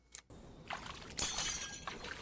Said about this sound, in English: The water increased so forcefully it cracked the glass